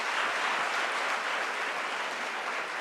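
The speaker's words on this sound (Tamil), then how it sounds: "கை தட்டுங்க" A room full of people claps together in a dense, even burst of applause that holds steady for a few seconds, fairly loud and close.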